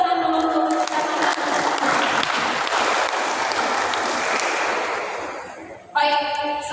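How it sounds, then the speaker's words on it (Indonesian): An audience at a youth church quiz competition in Sintang, Pesparani, bursts into sustained applause, a thick wash of many hands clapping that gradually fades. A voice briefly returns near the end. "Kita kasih tepuk tangan dulu untuk Kecamatan."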